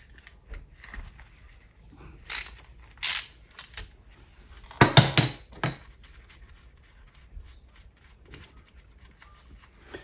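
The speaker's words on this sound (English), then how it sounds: "So I have two, and I have a 1/2 inch socket and a 1/2 inch wrench. So you're gonna take this old pulley out." A half-inch socket wrench works loose an old garage door pulley: a few sharp metallic clicks and clanks, with a brief cluster of ratcheting taps midway, separated by quiet pauses.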